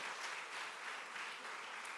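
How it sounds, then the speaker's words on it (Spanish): A church congregation claps in praise, a dense, continuous wash of applause that stays steady throughout, with no clear speech on top. "Dale un aplauso mayor al Señor."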